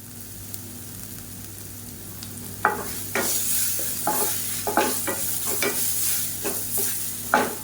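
Rasam powder and asafoetida sautéing in a pan while being stirred: a low background sizzle, then repeated scraping strokes of a spoon at an uneven rhythm, close and moderately loud, with no talking.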